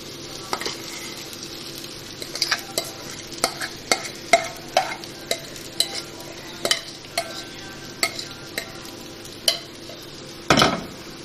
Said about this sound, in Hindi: और इसको अच्छी तरह से मिक्स कर लें ताकि मसाला अच्छी तरह आलूओं में मिक्स हो जाए।